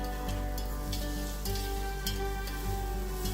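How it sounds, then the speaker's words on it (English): Onion, mustard seeds and curry leaves fry in peanut oil with a close, steady sizzle, punctuated by regular stirring taps against the pan over a constant low hum. "1 teaspoon of mustard, and some curry leaves, 1 cut onion. I'm gonna fry a little bit."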